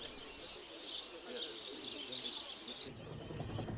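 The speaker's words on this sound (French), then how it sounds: "Ces oiseaux, venant d'Europe, arrivent sur le site vers le mois de décembre et retournent vers l'Europe en avril." Migratory birds from Europe calling at a lake in Burundi, with chirps and coo-like calls spread through a steady outdoor wash, moderately distant and continuous, a low rumble joining near the end.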